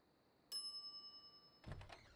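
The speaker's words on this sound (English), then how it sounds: "some idiot's already ringing that stupid bell" A service bell on a shop counter in The Secret of Monkey Island video game gives a single bright ding that rings out and fades slowly, followed by a brief rustling thump.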